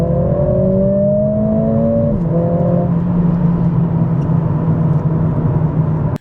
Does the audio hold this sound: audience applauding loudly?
no